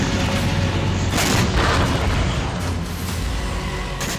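Heavy Israeli bombardment in southern Lebanon sounds as a loud, continuous roaring rumble with deep booming swells, dense and unbroken for a few seconds.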